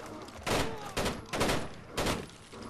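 Hip-fire gunshots crack in Rainbow Six Vegas 2, four loud bursts spaced about half a second apart, each with a brief reverberant tail over a low game background.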